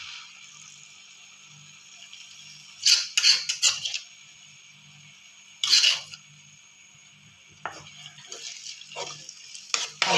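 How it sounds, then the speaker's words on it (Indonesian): Ground spice paste sizzles in hot cooking oil in a steady hiss while a utensil stirs and scrapes the pan in several clattering bursts. "Lalu kita aduk-aduk seperti ini ya teman-teman ya"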